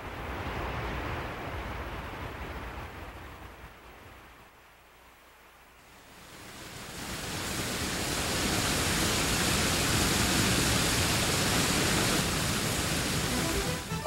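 A waterfall in the Columbia River Gorge, Washington, gives off a broad, continuous rushing roar that dips quieter midway and then swells into a louder, fuller torrent for the rest of the clip.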